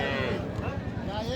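A large Friesian cow at the Raniganj cattle market in Dinajpur gives a low, drawn-out moo close by, with people talking over it.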